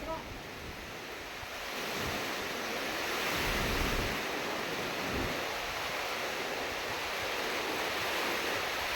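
Strong gusty wind blowing across a beach at Sabang, Palawan, roaring steadily with surging gusts and buffeting the microphone, mixed with the wash of surf.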